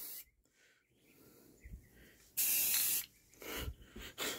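A spray paint can hisses indoors in a long burst followed by two shorter ones, close and loud, with faint breathing between.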